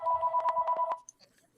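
A telephone rings during an interview call, a steady electronic tone pulsing in a quick warbling pattern for about a second before cutting off, followed by faint clicks and room noise.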